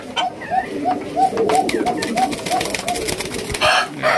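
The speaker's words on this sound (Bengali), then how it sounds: "ইন্ডিয়ান বোম্বাই কবুতর প্রচুর কিন্তু ডাকে মাশাআল্লাহ" Indian Bombay pigeons at a bird market coo in a steady series of soft, rounded calls, several birds overlapping close by amid general market noise.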